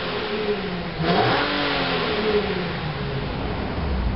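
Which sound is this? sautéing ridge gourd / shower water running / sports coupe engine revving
sports coupe engine revving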